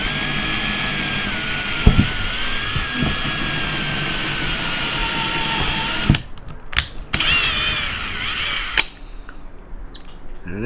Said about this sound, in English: I'm just going to go ahead and get started with the small drill bit to make sure that my hole lines up with the mark